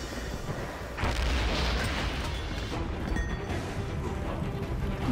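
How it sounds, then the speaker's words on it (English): A grenade blast in the World War trench game Valiant Hearts: a loud, heavy boom that hits about a second in, followed by a sustained roar of battle noise and rumble, with no talking. "that's a grenade in there"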